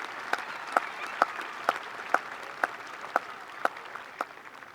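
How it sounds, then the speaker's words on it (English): Graduation audience applauding alumni at a school ceremony, a soft continuous wash of distant clapping with a few sharper claps standing out near the microphone. "Let's give them one last round of applause"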